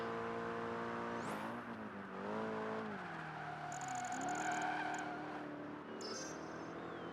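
Car engines racing in the video game Project Gotham Racing 3 on the Vegas Strip, several engine tones rising and falling through gear changes, with brief tire squeals and electronic beeps over a steady roar.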